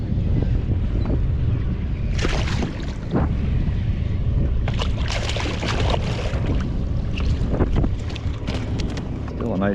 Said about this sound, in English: this wind is cranked up quite a bit